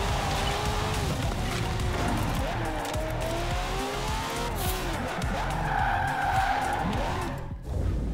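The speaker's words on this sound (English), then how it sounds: "Easy with the drift cars from Storm Island." Drift cars sliding in Forza Horizon 4's Lego world, tires squealing in long, wavering skids over a constant engine roar, loud and close with rising and falling pitch sweeps; brief voices underneath.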